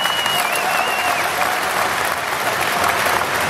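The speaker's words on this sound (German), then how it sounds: "Einmal Applaus" Dense, steady audience applause fills the room at a boxing award ceremony honoring a knockout of the month, continuous and fairly loud from start to end with no clear voices.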